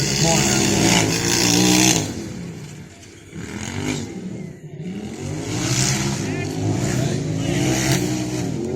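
A varied field of race cars, including a three-wheel Peel, roar past on a track, engines rising and falling as they pass and accelerate, with a loud opening, a dip, then more passes.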